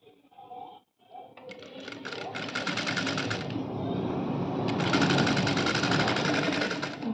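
A sewing machine stitching lining cloth, set to stitch length 4, whirs up into a fast rhythmic needle chatter after a brief pause and runs steadily and close, growing slightly louder toward the end with no talk.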